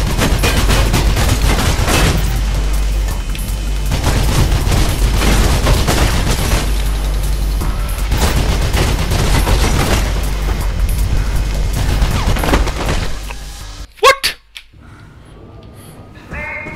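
Dense, continuous enemy gunfire and booming impacts from the Mirror's Edge video game, loud and sustained for about fourteen seconds before cutting to a few sharp isolated hits.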